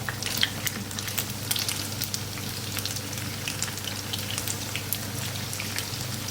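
Masala-coated fish sizzles steadily in a hot pan, a dense, even crackle of oil with scattered louder pops throughout, close and continuous with no talking.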